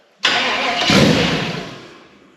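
A twin-turbo 6.0 engine in a 1965 GMC cranks and fires with a sudden loud start, then runs roughly at a steady level before easing down over a couple of seconds, close by with no talk.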